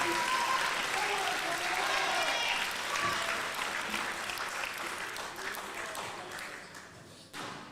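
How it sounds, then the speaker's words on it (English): A squash crowd at a tournament semi-final applauds after a rally, sustained dense clapping that gradually fades, with a commentator talking over it. "And the crowd goes wild."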